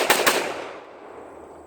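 Sig Sauer P226 Nitron 9mm pistol fired single action at a range, two sharp close shots in quick succession followed by a decaying echo.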